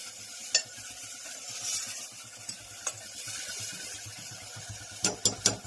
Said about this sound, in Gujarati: સરસ મજાનો વઘાર થઈ ગયો છે અને શાક વઘારાઈ ગયું છે